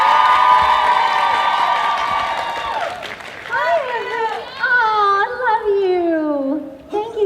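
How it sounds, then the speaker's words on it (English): Convention panel audience at a fan event cheering and applauding for a guest of honor, loud crowd noise with shouts and high excited voices rising and falling over several seconds, fading toward the end. "Let's keep that round of applause going for DeeDee!"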